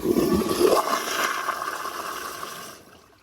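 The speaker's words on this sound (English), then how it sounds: "So here's the flush on the piston flushometer now." A restored 2016 Toto CT705 toilet flushed by a piston flushometer gives a short, forceful rush of water with an initial gurgling surge, then a steady roar that fades out after under three seconds, close and alone.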